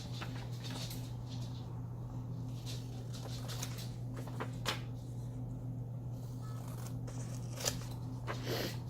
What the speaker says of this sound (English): Cut around the dotted line.